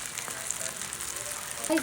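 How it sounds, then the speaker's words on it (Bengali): Eggs frying in a pan for a home breakfast give a steady, close crackling sizzle throughout, with a few brief brighter pops near the end and no talking. "ডিম ভাজি হচ্ছে খুব সুন্দর করে, দেখতেই পাচ্ছেন।"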